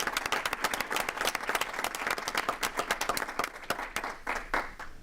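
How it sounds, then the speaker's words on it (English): Steady applause from an audience at a school board meeting, many hands clapping briskly and continuously, fairly close and even throughout, tapering slightly at the end. "So a round of applause,"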